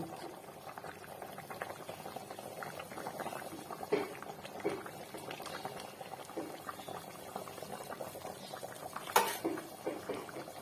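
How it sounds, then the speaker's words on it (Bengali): Egg and potato curry simmers in a pan, giving a soft, steady bubbling and popping up close. A few slightly louder pops stand out, and no voice is heard. "একটু ফুটুক আস্তে আস্তে ফুটুক"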